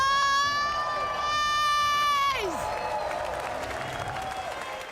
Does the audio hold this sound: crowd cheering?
yes